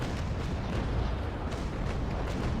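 Sailing ship cannons boom in rolling broadside volleys in the naval battle game Naval Action, a dense, steady rumble of repeated distant blasts with no speech.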